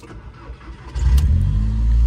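A project car with a changed exhaust starts up: a brief cranking gives way to a loud, low, steady engine rumble that settles into an idle, close by.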